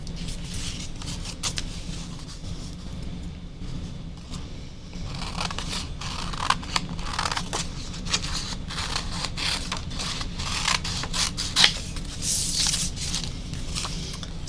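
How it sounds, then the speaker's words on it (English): Scissors snip steadily through paper while a sunflower shape is cut out, a run of close, crisp cuts with soft rustling, and the paper crackles louder near the end. "and then I'm going to cut it out"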